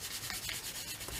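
An eraser rubbing out a pencil line on paper, a steady close scrubbing with quick back-and-forth strokes throughout.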